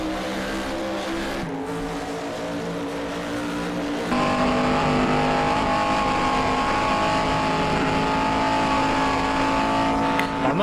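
Race car engine revving hard at Linas-Montlhery in a racing video game, a steady, loud, sustained high-pitched drone that climbs in intensity partway through, with tire noise and no talking.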